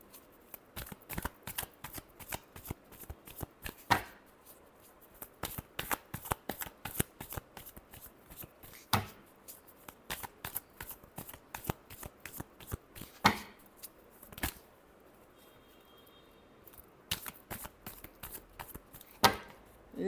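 Tarot cards being shuffled by hand, a long run of dense, crisp riffling and flicking bursts in irregular clusters, close and clear with only brief pauses between them.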